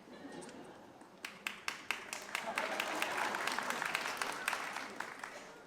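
Audience clapping at a seniors' talent show starts with a handful of scattered claps and swells into steady applause from a crowd, with a voice faintly beneath the clapping.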